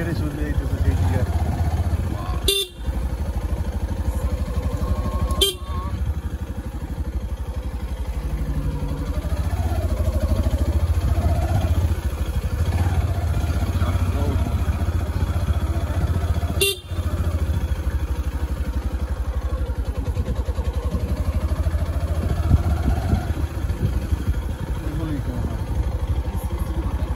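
A Yamaha FZ motorcycle rides on with a steady engine drone as it shifts into second gear, a few sharp horn blasts breaking in, and someone talking over the engine.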